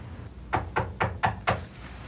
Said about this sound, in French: on cogne à la porte